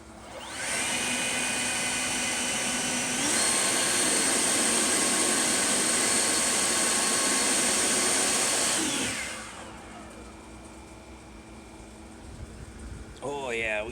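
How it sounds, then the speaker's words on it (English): A replacement HVAC blower motor runs with a loud, steady whooshing hum of moving air, rises slightly in level, then spins down to a quieter drone as a voice briefly speaks near the end. "this thing sucks air from the top in the hole and blows it out the side."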